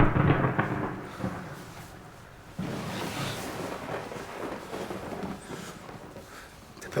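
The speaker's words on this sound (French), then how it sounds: "T'as peur de l'orage aussi?" Thunder rumbling through a thunderstorm, a broad low roll that swells and fades, then a second louder crack-and-rumble midway that lingers into a long fading growl, with no voices.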